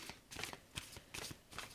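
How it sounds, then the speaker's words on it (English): Tarot cards are shuffled in quick bursts, about five soft riffling ruffles in close succession, faint and near, with no speech. "now I will just do a final shuffling for you"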